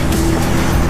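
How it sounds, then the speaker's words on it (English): A Porsche sports car charges through a saltwater test tank, a loud, close, broadband rush of engine noise and churning water filling the whole second. "the sports car drives through the saltwater tank"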